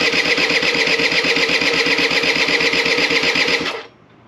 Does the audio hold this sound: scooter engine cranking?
yes